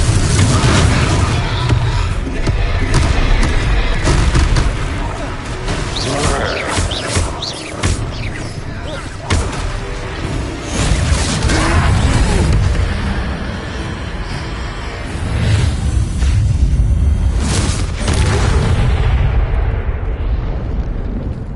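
Repeated Confringo blasting-curse explosions in a Harry Potter video game, loud booming bursts over a dense, roaring backdrop of game noise, with voices calling out over the action.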